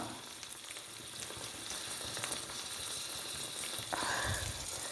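Asafoetida powder fries in hot oil, a soft, even sizzle with faint crackles heard close and steady, with a brief clink near the end.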